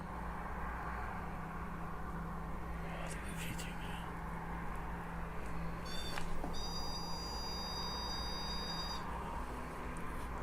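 A steady electronic beeping tone sounds for a few seconds over a constant low hum, with faint voices and brief clicks earlier.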